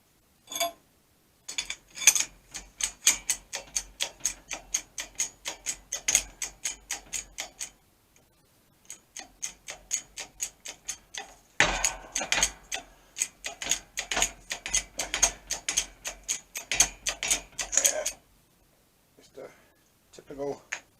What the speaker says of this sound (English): Down at the press, we'll see if we get this plastic pulley off without blowing it apart